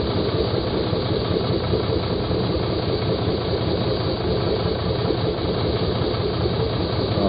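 A new-model Yamaha TMAX scooter engine idles with a steady, dense rumble and a faint whistle, running continuously and close up, with no speech.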